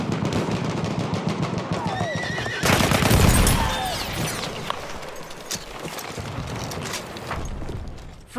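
In a Battlefield 1 match, a cavalry horse gives a loud whinny amid gunfire and explosions, with hoofbeats and scattered shots continuing around it.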